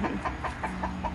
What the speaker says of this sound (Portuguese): Já tem uma galinha. Com seus pintos.